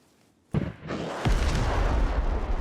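A rocket launcher in a video game fires with a sudden loud blast, and a deep rumbling explosion follows a moment later and rolls on heavily to the end.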